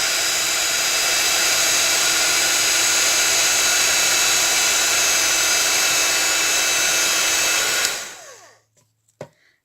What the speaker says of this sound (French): on prend son pistolet chauffant